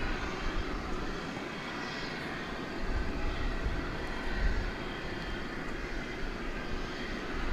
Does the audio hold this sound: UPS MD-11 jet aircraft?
yes